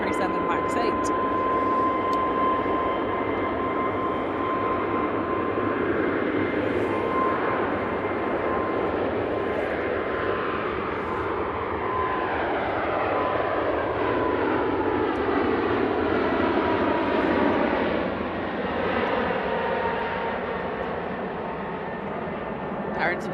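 A Boeing 737 Max 8 departing Manchester Airport for Alicante gives a loud, sustained jet roar with sweeping tones as it passes, while people talk at times.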